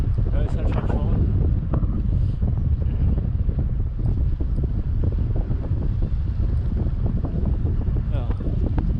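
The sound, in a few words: headwind blowing while cycling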